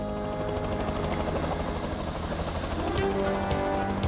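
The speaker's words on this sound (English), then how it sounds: "That's a helicopter." Cartoon helicopter flying steadily overhead, a continuous whirring rotor drone with an engine hum, at moderate volume and with no one talking.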